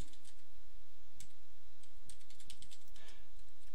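Fingers tap steadily on a computer keyboard while an address is entered into QuickBooks setup forms, a quick run of light clicking keystrokes over a faint steady hum.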